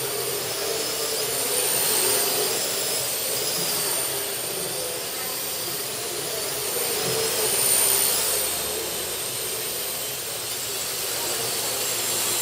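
A Parrot AR Drone 2.0 Power Edition flies and spins, its rotors making a steady loud whirring hiss that swells and fades slightly as it turns.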